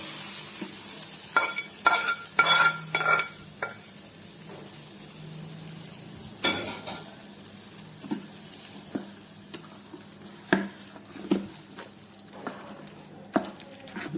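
Lemon pickle is mixed by hand with cooled oil and chili paste, producing a series of soft, wet squelching strokes at irregular intervals over a quiet background, with no talking.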